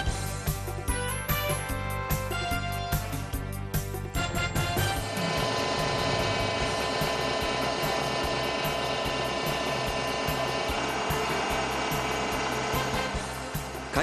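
A Tsurumi screw pump driven by a 221 kW diesel engine runs with no load, a loud, steady mechanical drone with rapid regular clatter that grows denser and heavier partway through and stays continuous.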